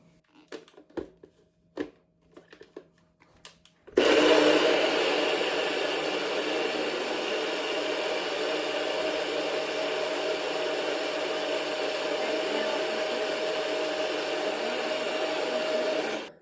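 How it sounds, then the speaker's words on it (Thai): Electric blender whirring through coconut pancake batter for Thai khanom krok, starting abruptly after a few light clicks and knocks and then running loud and steady until the end. "เดี๋ยวเราก็จะนำมาปั่นเลยนะคะ"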